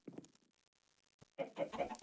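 Chickens clucking in the Minecraft video game, a short burst of low clucks at the start, then a louder cluster of clucking calls near the end.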